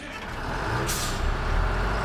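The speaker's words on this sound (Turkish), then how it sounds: "Kamyon gidiyor Azmi." Cartoon truck pulling away with a short, sharp air-brake hiss over a steady engine rumble, fairly close and loud, with no talk.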